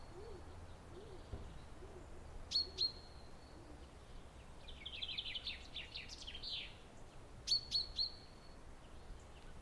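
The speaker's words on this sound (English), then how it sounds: "I can hear the family of birds singing in the sunlight" Birds in a sunlit garden sing and call, with soft hooting notes and brief bright chirps and trills rising in scattered bursts over a quiet background hiss, moderately distant.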